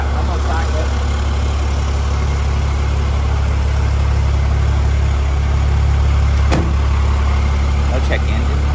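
A car engine, just restarted after a major engine failure, runs at a steady, low idle throughout, close and loud, with a faint click or two near the end.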